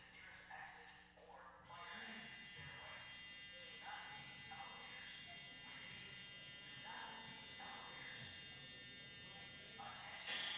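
A church fire alarm buzzes steadily for about nine seconds, a harsh tone with a rapid pulsing rhythm that starts abruptly. Faint voices sit underneath.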